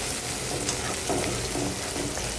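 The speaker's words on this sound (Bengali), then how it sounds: "পেঁয়াজ আর আলু হচ্ছে একসাথে তেলের মধ্যে দিয়ে দিচ্ছি" Onions and potatoes sizzle in hot oil in a pan, a steady close frying hiss with some stirring scrapes throughout, no talking.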